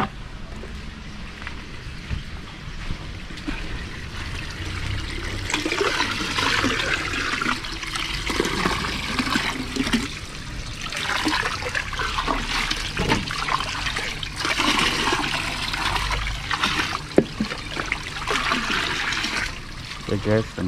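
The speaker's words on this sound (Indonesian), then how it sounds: "Oke guys, sambil kita isi airnya." Clean water pours steadily into a hydroponic melon tank, making a continuous splashing, trickling rush that stays moderately loud for the whole stretch, with someone talking over it.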